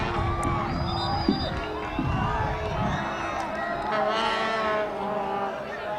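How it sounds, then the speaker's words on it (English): A large crowd at a boys' Division III high school soccer final cheers from the far side of the field, a sustained roar with whoops and swells, and a commentator talks over it. "A tremendous crowd on the far side and cheering their two schools on"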